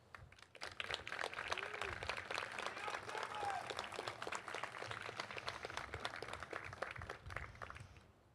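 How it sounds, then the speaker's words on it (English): Steady applause from a crowd at a college commencement ceremony fills the whole stretch, dense clapping at moderate volume with some faint voices underneath. "please give another round of applause for our awardees"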